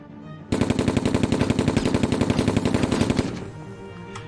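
Machine gun fire in the Silent Storm video game, a loud, close, rapid burst of evenly spaced shots lasting under three seconds, then a short ringing tail fading out.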